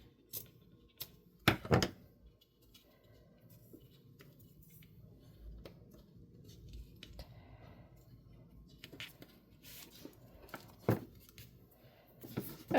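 Scissors trimming the cover material of a Little Golden Book junk journal, heard as faint, close snips and rustles, with a few sharper cuts and handling noises spread unevenly across the quiet clip.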